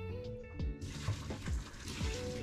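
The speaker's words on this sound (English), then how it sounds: "And pour out the water." Water pours out of a pot used to boil squid, splashing and gurgling close by in a short, uneven stream of bursts.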